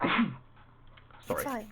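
A person sneezes once, short and close, in a room where people are playing Dungeons & Dragons, followed by brief talk.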